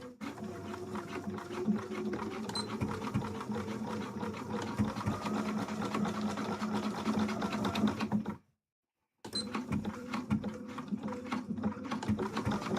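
A sewing machine runs a side seam on a cosplay garment, a steady rapid needle chatter close by, pausing briefly near the end before resuming, with no talking.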